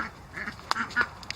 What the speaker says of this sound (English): And here's the duck enclosure that we built.